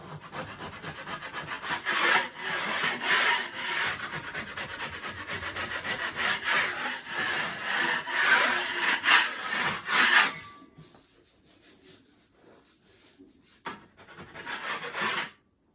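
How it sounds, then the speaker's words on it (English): A drywall knife blade scrapes repeatedly across dried joint compound in quick, rasping strokes, knocking off high spots, then pauses before a final brief scrape. "You just use the bigger blade to knock off any high spots."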